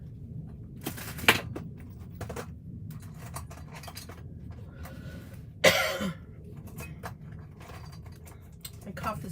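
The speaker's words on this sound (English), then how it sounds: "My cough is more just like a tickle, and it just is more annoying than productive" Two short, dry tickly coughs stand out sharply, one early and one louder near the middle, over a quiet room with faint paper and crafting handling noises.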